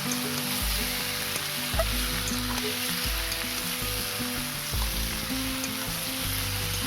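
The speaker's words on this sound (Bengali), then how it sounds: "এবার আমি ভেজে রাখা আলু আর সিমটা দিয়ে দেবো, দিয়ে ভালোভাবে নাড়াচাড়া করে নেব।" Previously fried potatoes and flat beans being tossed and stirred in a frying pan, giving a loud, continuous sizzle with rhythmic scraping strokes every second or so, no voices.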